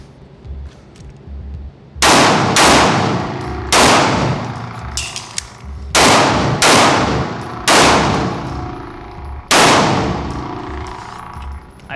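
Sig P320 pistol fired at targets on a range: six loud, sharp shots in uneven spacing with brief pauses between them, each ringing out with a long decaying echo.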